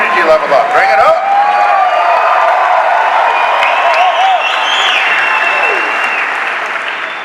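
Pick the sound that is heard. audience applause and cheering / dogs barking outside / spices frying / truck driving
audience applause and cheering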